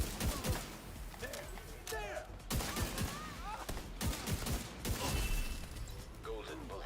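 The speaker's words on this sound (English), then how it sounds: "I could slow down some of my shots a little bit. I'm going a little too fast on the trigger." Rapid bursts of gunfire from The Division 2 video game, crackling shots in quick clusters with mechanical clicks and reload sounds between, with a voice talking over them at times.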